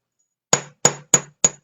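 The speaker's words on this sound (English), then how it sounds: "take it off the mandrel and give it a few whacks with the chasing hammer" A chasing hammer strikes a fine silver ring four times in quick succession, each blow a bright ringing metallic tap that fades quickly, with no talk.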